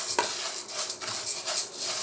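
Fried moong dal snack being mixed in a bowl, producing quick scraping and clinking stir strokes with soft rustling of the crisp lentils, close and moderately loud.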